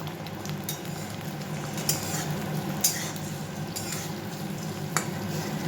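Egg bhujia with beet, pumpkin, onion, garlic and carrot being stir-fried in oil in a pot, a steady close sizzle broken by a few sharp scrapes and clinks of the spatula against the pan.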